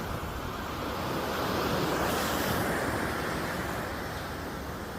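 Sea waves roll onto a beach of white sand with clear water, a continuous loud wash of surf mixed with wind buffeting the microphone, swelling slightly midway with no voices.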